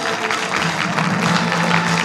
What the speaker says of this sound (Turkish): Onlar için sizlerden kocaman bir alkış istiyorum